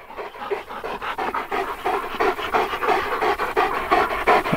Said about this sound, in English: you big slobber dogs.